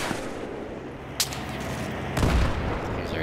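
Sniper rifle fire in Battlefield 3, heard as a sharp crack followed later by a heavier, booming report over steady background game noise.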